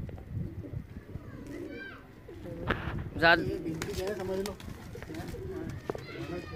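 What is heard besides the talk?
pigeons cooing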